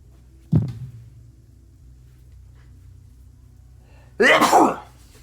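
A single sharp sneeze near the start, probably from a player at a tabletop role-playing game session, followed by a few seconds of quiet and then a brief burst of voice.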